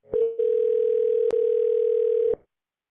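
Steady telephone dial tone on a live call-in phone line, holding loud and unbroken for about two seconds, with a brief click near the middle and sharp clicks at the start and end.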